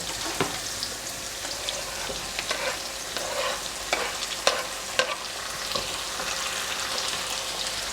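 Zucchini sizzles and crackles steadily in a hot pan, with scattered sharp pops and occasional stirring scrapes, close and continuous.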